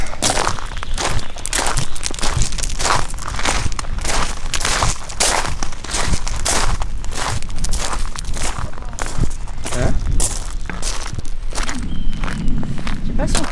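Crunching footsteps on a hillside tread in a steady, close rhythm, loud and continuous, with wind buffeting in the background.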